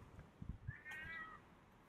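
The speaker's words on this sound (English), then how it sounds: "Seems like a vicious cat." A cat, thought to be vicious, lets out a single faint drawn-out meow from behind a wall outdoors, with soft thumps and background noise beneath it.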